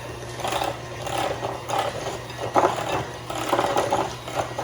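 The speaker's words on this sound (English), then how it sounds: "now we're gonna take our mixer and just blend all the ingredients together" An electric hand mixer whirs steadily through pumpkin cheesecake batter for a low-carb keto recipe, its motor hum rising and dipping in uneven pulses as the beaters work the bowl, close and moderately loud with no talking.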